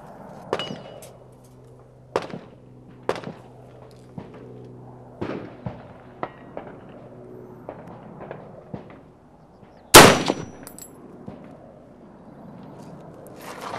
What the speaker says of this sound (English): let's go ahead and take a third shot